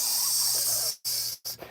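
Giant wet logs in a fire give off a steady loud hiss of steam and sizzle that briefly cuts out twice, with no talk.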